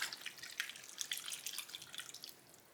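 Beef broth poured into a slow cooker, a soft, faint liquid splashing and trickling that runs steadily for a few seconds with no talking.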